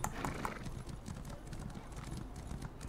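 A horse gallops in the video game Elder Scrolls Online, a quick, steady run of hoof clip-clops repeating evenly throughout, fairly faint.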